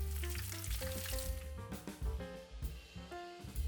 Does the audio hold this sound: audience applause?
no